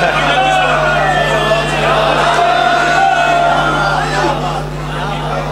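A crowd at a Shia majlis mourning gathering in Kathan wala, Behal, raises loud, reverberant voices over an amplified sound system in sustained chanting, with a steady hum underneath.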